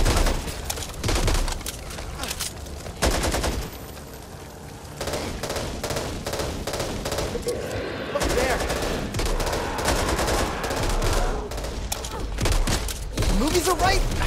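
Rapid bursts of automatic gunfire from the video game Back 4 Blood, loud and near, coming in repeated volleys with short gaps, while a voice speaks over the shooting.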